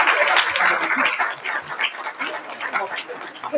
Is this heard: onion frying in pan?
no